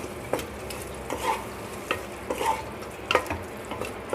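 Cooked macaroni is stirred with mayonnaise in a bowl, giving soft, wet squelching and scraping strokes in irregular bursts, close and moderately loud with no talk.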